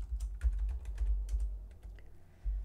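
Rapid, irregular keystrokes clatter on a computer keyboard during an Excel exam exercise, close and fairly quiet, with no voices.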